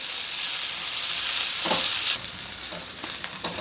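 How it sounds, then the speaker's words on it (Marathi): Onion, ginger, garlic and green chili sauté in hot oil in a pan for a hotel-style paneer gravy masala, giving a steady, close, bright sizzle with a few soft stirring scrapes and no voices. "आता त्यातच आपल्याला आलं, लसूण आणि हिरवी मिरची घालायची आणि पुन्हा छान परतून घ्यायचे।"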